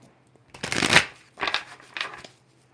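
Tarot cards are shuffled close by in three quick riffling bursts, each a crisp papery flutter separated by brief pauses.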